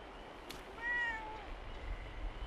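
A cat in the Fallout 76 game gives a single short meow near a marshy shack. The call is fairly faint and stands alone over a quiet background.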